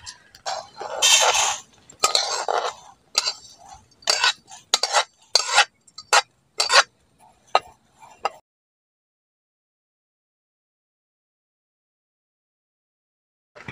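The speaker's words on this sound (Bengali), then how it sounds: "হালকা আঁচে নাড়াচাড়া করে চালটাকে একটু ভেজে নিয়েছি" Raw rice dry-roasted in a pan over low heat and stirred with a metal utensil, a series of scraping, rattling strokes in irregular bursts, loud and close, then silence for the last several seconds.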